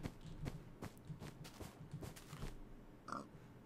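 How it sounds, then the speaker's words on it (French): Pigs grunt and oink softly in the video game Minecraft, with several short low snorts scattered among faint footsteps and a quiet, distant background. "Oh, j'entends des cochons."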